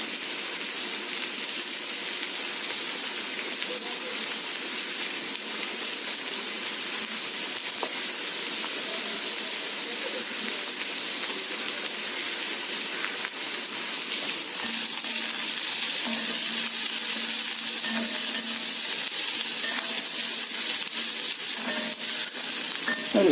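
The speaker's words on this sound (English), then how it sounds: "Fry till it is half done." Spiny gourd (kantola) fries in a pan with a steady, even sizzle and hiss throughout, growing slightly louder and crackling more toward the end.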